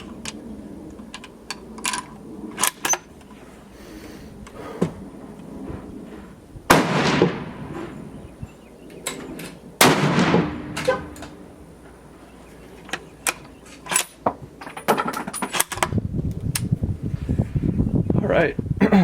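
Rifle shots from a Savage 111 Trophy Hunter XP in .30-06 at an outdoor range, with two loud sharp reports spaced a few seconds apart amid scattered clicks and handling noise, followed by rising wind or rustle.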